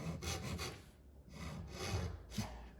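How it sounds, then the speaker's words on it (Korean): A hand saw rasps through wood along a marked line in a few back-and-forth strokes, close and fairly quiet, with a short pause mid-way. "다시 이쪽도 그냥 바로 칼금에 붙이는 톱질을 해서 뒷일을 별로 만들지 않도록 하겠습니다"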